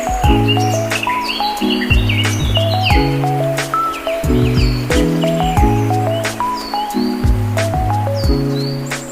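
Birds chirp and call repeatedly near a clear, cold stream, with steady flowing-water noise and rustling around them and no talk.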